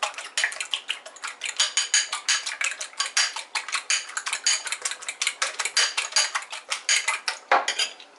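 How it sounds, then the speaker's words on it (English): Eggs are whisked briskly in a bowl for a breakfast burrito, a close, quick run of rhythmic metallic clinks against the bowl with no talking. "This is gonna whisk it."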